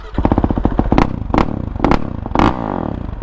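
A Yamaha YZ450 dirt bike with a carbon fiber exhaust, silencer still fitted, idles close by in a loud rapid thump, with several sharp throttle blips rising over it.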